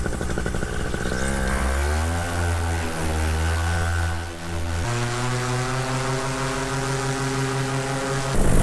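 Paramotor engine and propeller droning steadily in flight, a loud continuous buzzing tone that shifts pitch partway through, heard close with no talk.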